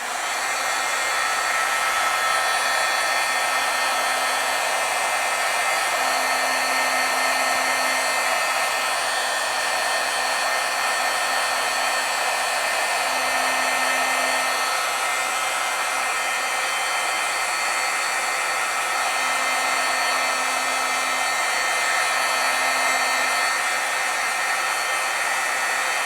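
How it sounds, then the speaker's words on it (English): A hot-air heat tool blows steadily for about 26 seconds, drying silver foil on stamped artwork, a constant loud airy whoosh with a faint low hum, no talking. "let me do a quick heat setting on this too."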